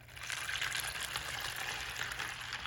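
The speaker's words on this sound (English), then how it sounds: "I'm going to fill this up." Water is poured into a container to fill it, a steady, moderately loud splashing gush that runs unbroken throughout.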